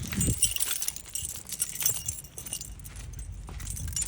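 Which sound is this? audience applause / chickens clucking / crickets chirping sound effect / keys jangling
keys jangling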